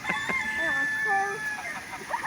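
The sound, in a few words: chickens clucking and crowing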